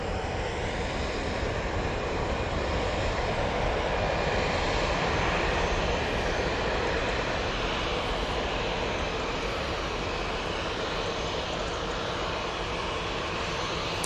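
Airliner jet engines roar at Manchester Airport, a loud, steady, continuous broadband rumble that fills the whole stretch with no pauses.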